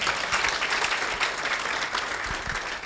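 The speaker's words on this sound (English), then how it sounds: "you can give him another round of applause" Audience at a Council of Governors event in Kenya giving a round of applause, dense steady clapping close and continuous for the whole stretch.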